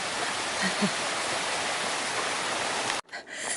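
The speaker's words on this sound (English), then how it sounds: "this section's been constant streams, so lots and lots of little weedy stream crossings" A small, weedy mountain stream on a hiking trail rushes steadily in a dense, close wash of water noise, then cuts off abruptly near the end.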